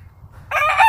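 A brood cock rooster crows loudly and close, a single call starting abruptly after a moment of quiet.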